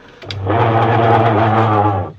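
A washing machine with a faulty gearbox starts with a click and runs with a loud, droning hum and a rough, uneven growl, close up, then cuts off.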